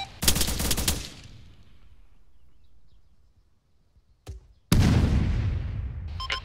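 Bursts of automatic gunfire in ArmA 3, a dense crackling volley at the start, then a quiet stretch, a single sharp crack and another sustained loud burst of rapid shots.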